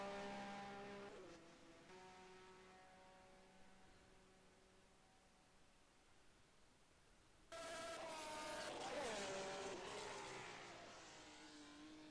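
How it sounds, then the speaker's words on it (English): Formula 1 race car engines in a 1979-season racing game at Buenos Aires, a steady whine fading off in the distance, then a loud burst of high revving as cars scream close by and pull away. "I like the sound of the engines when they're pulling away in the distance"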